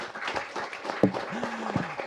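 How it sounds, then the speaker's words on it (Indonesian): A short burst of applause from a TV studio audience, clapping rising briefly amid a noisy room with a tonal hum. "tepuk tangan buat Pak Arifin."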